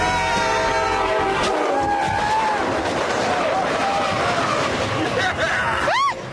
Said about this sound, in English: this time, the train will be going backwards, with the blunt end leading and the aerodynamic engine at the rear.